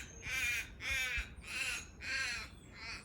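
Five loud, evenly spaced caws from a crow outside, each harsh call ringing out over faint ambient noise with no talking.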